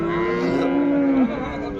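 A Holstein Friesian cross cow at a cattle market lets out one long, low, drawn-out moo close by, ending abruptly.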